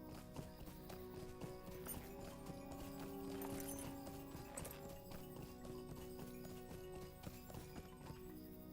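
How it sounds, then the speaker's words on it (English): Video game horse hooves clip-clopping in a steady walking rhythm, joined by a whinny, over continuous fantasy game music; no talk. "I'll summon my horse."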